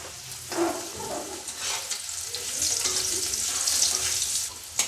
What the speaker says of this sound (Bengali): আলুটাতেও আমি একটু লবণ আর হলুদ দিয়ে ভেজে নেব